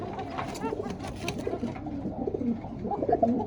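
A male and female pair of pigeons on a pigeon farm coo repeatedly nearby, soft throaty calls overlapping one another with faint background rustling.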